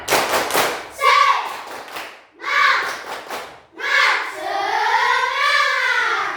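A crowd performs the Indonesian tepuk semangat cheer, rhythmic bursts of group clapping alternating with loud chanted voices, close and energetic, repeated in several rounds.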